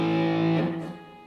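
A single sustained electric guitar chord from a 2002 Epiphone Les Paul Standard with distortion and delay rings out with a faint echoing tail as it fades.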